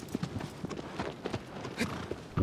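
Steady clip-clopping of horse hooves from the video game Shadow of the Colossus, a brisk continuous rhythm of hoof strikes at moderate loudness with faint game ambience around it.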